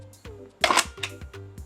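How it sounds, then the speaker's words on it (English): A Mamiya RB67 Pro S medium-format camera fires: the mirror lifts, the shutter trips and closes in a loud, close mechanical clunk followed by a few lighter clicks. "lifts the mirror, triggers the shutter, and closes the shutter again"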